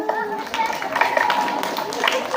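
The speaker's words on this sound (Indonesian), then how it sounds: "Tepuk tangan dong." Elementary school children clap their hands in a classroom, a busy patter of small claps mixed with young voices chattering and calling out over it.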